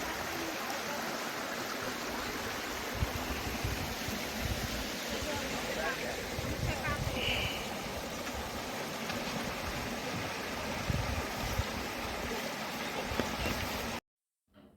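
Motijharna waterfall in Sahibganj, Jharkhand roars as a steady, broadband rush of falling water heard from nearby, continuous and full until it cuts off abruptly near the end.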